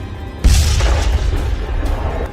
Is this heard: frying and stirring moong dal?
no